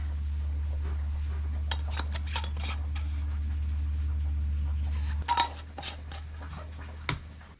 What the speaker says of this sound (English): Now it is time to place our hot lids on our jars